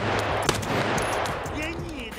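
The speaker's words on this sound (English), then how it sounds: "I took my time and carefully lined up my shot." Gunfire in the shooter game Escape From Tarkov: a few sharp, close shots crack over a busy, noisy in-game background within a couple of seconds.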